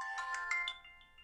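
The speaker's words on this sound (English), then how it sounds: "Sorry, I'm getting a phone call." A phone ringtone plays a short bright chiming melody of several quick notes, fairly faint, that trails off into a fading tone.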